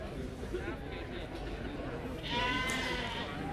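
Dutch Spotted sheep bleat repeatedly in a show ring at the Royal Highland Show livestock show, with a louder cry near the end, all under steady crowd chatter and people talking.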